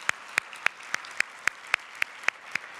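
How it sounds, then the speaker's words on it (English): Evenly spaced claps, about ten in under three seconds, in a steady rhythm like one person or a small group clapping after a speech at an MLK 2024 program, with no talk over them. "Let's give him another round of applause."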